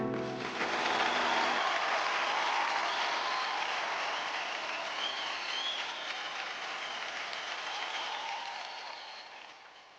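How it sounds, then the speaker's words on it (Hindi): Sustained audience applause for dancer Arvind at a hip hop dance competition, a dense steady wash of many clapping hands that carries on without a break and slowly fades toward the end, with no talk over it. "अरविंद के लिए तालियां।"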